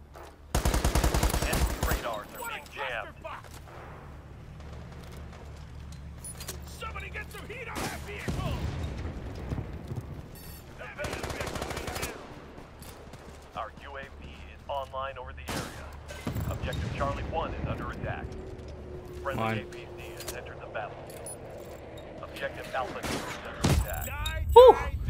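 Bursts of automatic gunfire from the video game World War 3, including an AK with a holo sight, open loudly and recur in scattered volleys through the stretch, mixed with game mechanism noises and a player talking between shots.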